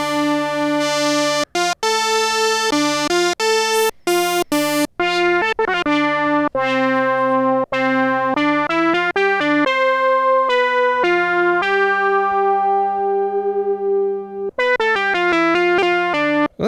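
An Arturia MatrixBrute analog synthesizer played through a 12 dB per octave filter, a bright buzzy tone with a sequence of stepping notes and held pitches, loud and alone.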